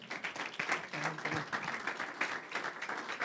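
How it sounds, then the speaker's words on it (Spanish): A church congregation applauding together, a steady wash of clapping from many hands in a reverberant hall, continuing throughout at moderate level with faint voices mixed in. "Da un aplauso al Señor."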